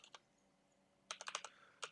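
A computer keyboard typed on near a Windows 10 PC, a couple of isolated keystrokes followed by a quick burst of several clicks and a short final pair, with no talking.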